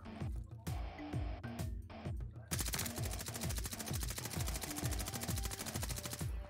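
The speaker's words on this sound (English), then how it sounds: "Oh, they're shooting." Rapid automatic gunfire crackles in a Call of Duty Vanguard match on Champion Hill, with repeated bursts of sharp shots and echoing reports at a moderate distance, continuing steadily across the whole stretch.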